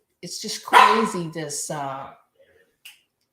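A pet dog barks several times in quick succession indoors, loud and close, followed by a couple of faint short yips.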